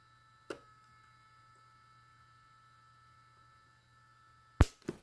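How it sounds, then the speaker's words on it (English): A faint, constant low hum of a DIY Arduino spot welder's small cooling fan runs throughout, broken by a sharp click near the start and a loud snap near the end. "The noise you hear is a fan."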